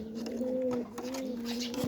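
Pigeons in a loft coo steadily and close by, low repeated throaty calls running through the short stretch with no talk over them.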